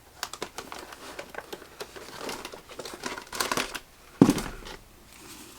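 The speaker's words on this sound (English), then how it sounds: "So I will just grab out my YouTube envelope." Paper envelope grabbed and handled, a run of close crinkling and rustling bursts with a sharper crumple near the end.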